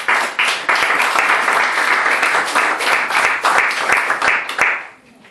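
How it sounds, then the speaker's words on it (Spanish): A church congregation claps for the Lord during a Spanish-language service, with dense, energetic applause and a few sharp individual claps standing out. It fades away in the final half second. "¿Por qué no le damos un aplauso al Señor"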